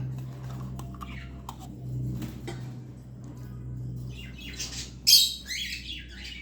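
A pet parrot squawks once loudly and close at about the five-second mark, with a few fainter chirps before and after over a steady low hum in a quiet room.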